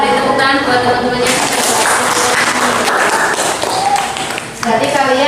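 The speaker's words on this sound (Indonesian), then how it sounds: "Beri tepuk tangan buat teman-temannya." Classroom of students applauding their classmates, loud close clapping from a small group filling several seconds, with voices talking over it and a brief dip before it resumes.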